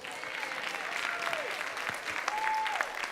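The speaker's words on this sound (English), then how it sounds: "You can give them a round of applause." Steady clapping from a graduation ceremony audience, moderately distant and somewhat faint, continuing evenly with a few faint whistles over it.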